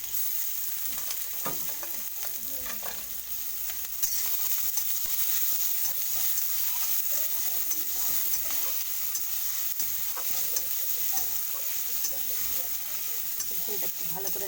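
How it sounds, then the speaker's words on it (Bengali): Garlic frying in hot oil in a pan alongside green chillies and onion, a steady sizzle with occasional stirring scrapes, close and continuous with no talk. "রসুনটা একটু ভালো করে লাল করে ভাজা করবো"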